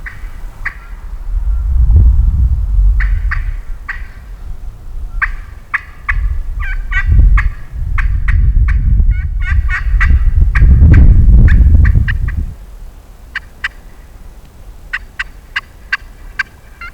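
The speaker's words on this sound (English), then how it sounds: "One just gobbled like right down in the bottom over here, not real far." A wild turkey gobbler in Missouri public-land woods sounds off with repeated loud rattling gobbles, several bursts in a row, heard from a moderate distance over low rumbling wind or movement noise and scattered bird chirps.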